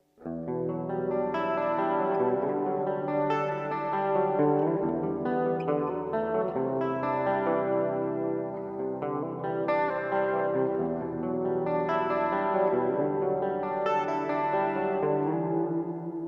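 An electric guitar sent through a budget LEKATO wireless system plays a run of ringing notes and chords with effects, crisp highs and a slight low-mid bump, steady and loud with no talking.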